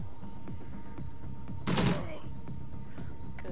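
Gunfire in the video game Dragonfall: a single short burst of shots cuts through quiet background game ambience, loud for a moment and then gone.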